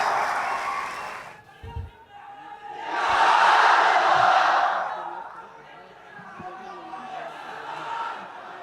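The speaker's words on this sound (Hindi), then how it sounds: "एक बार फिर से जोरदार तालियों से स्वागत करिए" A studio audience at a live Hindi interview show with a guest breaks into loud clapping and cheering in two swells, separated and followed by talking voices.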